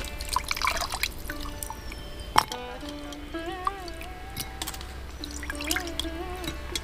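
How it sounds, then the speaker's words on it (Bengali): Water runs and drips while raw chicken is rinsed in a home kitchen, with irregular splashes and trickles close by and a faint tonal hum in the background. "এখন আমি চিকেনটাকে ভালো করে ধুয়ে পরিষ্কার করে নেব।"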